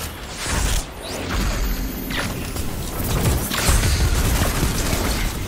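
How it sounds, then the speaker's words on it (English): Bomb explosion in Destiny Crucible gameplay, a loud rumbling boom and crashing debris with whooshing bursts that stay dense and heavy throughout, no speech over it. "Yeah, die from the bomb."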